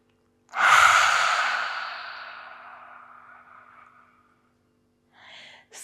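One long, deep yoga breath: a forceful, close exhale that starts abruptly and fades slowly over several seconds, followed by a short faint breath sound after a pause.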